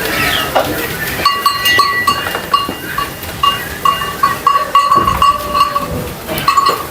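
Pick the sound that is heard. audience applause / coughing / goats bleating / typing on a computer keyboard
goats bleating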